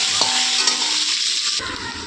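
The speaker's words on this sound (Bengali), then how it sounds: "এখন আলুগুলো একটু ভালোভাবে ভেজে নেব" Par-boiled potatoes fry in hot oil with a steady, loud sizzle and a few scraping stirs, then a sudden crackling burst near the end.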